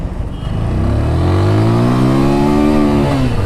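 A TVS Apache 200 4V BS6 motorcycle engine revs up under open throttle, pitch climbing smoothly and staying loud and close for several seconds, with no talking.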